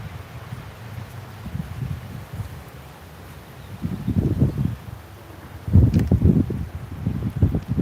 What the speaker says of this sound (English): That wind is actually, you know what? It's a little chilly.